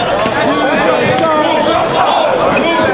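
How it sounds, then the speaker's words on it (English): A wrestling crowd at an ROH event murmurs and cheers in a steady, dense roar, with a commentator's voice running on top throughout. "Crowd getting a little involved"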